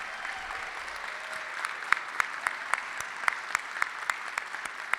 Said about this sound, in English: Let's have another round of applause for all our award recipients